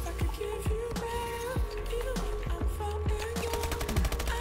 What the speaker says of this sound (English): Let's switch to the ASM 1 royalty.